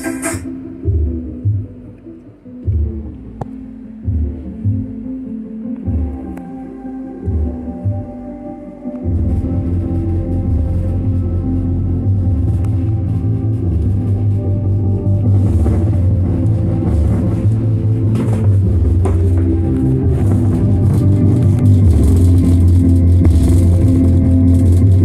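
A Chinese amplifier plays through its band-pass filter: after several seconds of choppy low thumps, a continuous loud hum-heavy signal with rumbling bass tones takes over and holds steady to the end.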